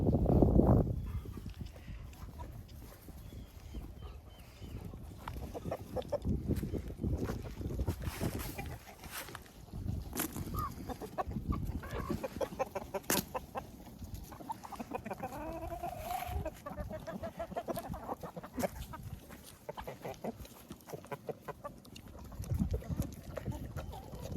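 Backyard chickens clucking around a coop while eating food scraps, a busy scatter of short clucks and squawks at close to moderate distance, with some rustling and faint background noise between calls.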